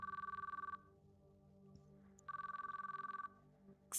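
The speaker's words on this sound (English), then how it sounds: "I decided to call Arimoto." A telephone rings during a call in the ChäoS;Child video game, two bursts of rapid electronic trilling separated by a pause, clear and fairly quiet over a faint background.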